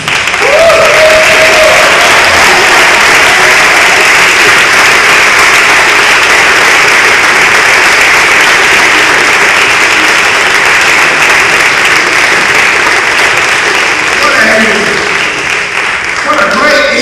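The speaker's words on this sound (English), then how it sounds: "let's applaud the 2013 Hall of Famers" A large standing audience applauds Hall of Fame inductees at a college induction ceremony, with loud, steady, dense clapping filling the whole stretch and a crowd murmur underneath.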